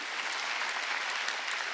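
A church congregation at a Wednesday worship service applauds in a steady, dense wash of clapping, loud and unbroken with no talk over it.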